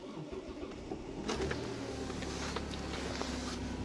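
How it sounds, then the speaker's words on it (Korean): A Hyundai New Grandeur with a 2.5 V6 engine, old and a little worn, cranks and starts, then settles into a steady low idle rumble close by. "그랜저 시동을 한번 걸어보겠습니다"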